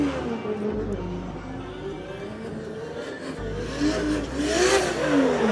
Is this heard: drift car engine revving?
yes